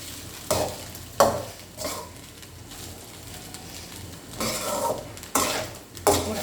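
Egg and anchovies are stir-fried with curry leaves for simple nasi goreng, a spatula scraping and tossing in bursts over a low sizzle. Several loud stirring strokes recur at uneven intervals, close up, with no speech.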